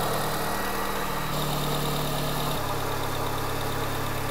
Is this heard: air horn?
no